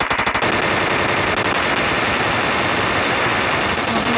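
Rapid automatic gunfire in the PUBG video game, with a burst of sharp cracks at the start followed by sustained dense, loud firing noise with no pauses.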